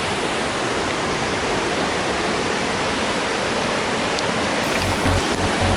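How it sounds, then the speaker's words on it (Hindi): Madosuli waterfall: a loud, dense, steady roar of falling water that fills the whole scene without letting up. "और ये यहाँ का एक वाटरफॉल है।"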